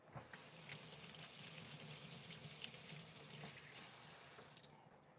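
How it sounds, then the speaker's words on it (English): Kitchen tap running into a sink while hands are washed, a steady close splashing stream that continues without break, with no talking. "I'm gonna wash my hands"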